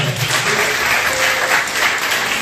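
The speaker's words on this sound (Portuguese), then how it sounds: "Se vocês se alegram por isso, um forte aplauso aí" A church congregation claps during a celebration service, a continuous wash of applause that stays full and even throughout, with no speech standing out.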